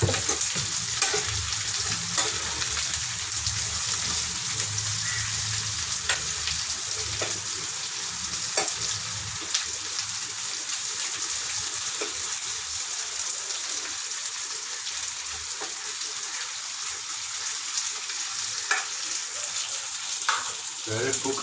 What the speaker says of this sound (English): Keep stirring it, don't let it get burnt.